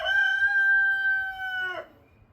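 Stan the rooster lets out a single long, loud crow close by, a sustained bright tone of nearly two seconds that breaks off sharply, with no talking.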